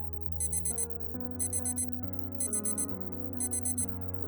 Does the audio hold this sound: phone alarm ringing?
yes